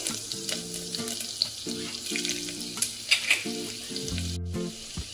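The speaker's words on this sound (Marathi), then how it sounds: "कांदा थोडा तळून घ्यायचं।" Onion frying in hot oil with cumin, a pinch of hing, ginger and chili, a close steady sizzle with occasional stirring scrapes, while soft background music plays beneath.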